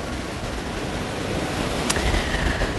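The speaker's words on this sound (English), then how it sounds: "this dramatic backdrop of the waves of Lake Ontario here" Waves of Lake Ontario rolling against the shore, a dense, continuous surf wash with steady loudness and a faint higher whoosh near the end, with no voices over it.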